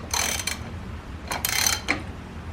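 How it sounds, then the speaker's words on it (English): A half-inch ratchet is worked on the inner tie rod of a 1996–2000 sixth-generation Honda Civic, giving short, close bursts of rapid metallic clicking, three quick strokes separated by brief pauses. "And now we'll put a 1/2 inch ratchet on this outside portion."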